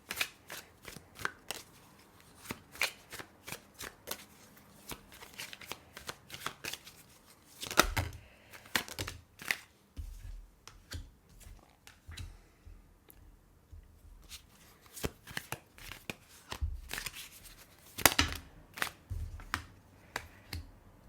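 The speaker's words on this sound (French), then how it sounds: "Je vais quand même tirer 2-3 cartes avant." Tarot cards handled, shuffled and drawn in a run of sharp, close slaps and riffles with quiet pauses between, heard alone without talk.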